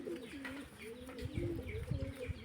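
Domestic pigeons in a keeper's loft coo steadily with low, rolling calls, several overlapping, plus faint chirps and soft thuds nearby, with no talking.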